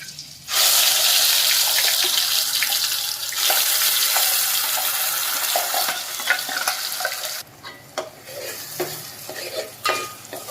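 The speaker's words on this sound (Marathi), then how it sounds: "हे वाटण केलेलं पाणी आपण याच्यामध्ये घालूया" Loud hissing rush as water with ground masala hits a hot pan of oil, steady for several seconds, then dying down to bubbling and scattered stirring clinks.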